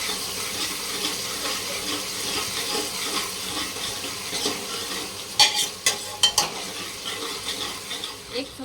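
Tomatoes frying in a pan as they soften for a Marathi dal palak garagatta, under a steady sizzle with stirring. Several sharp utensil scrapes and knocks come close together near the end, with no talking.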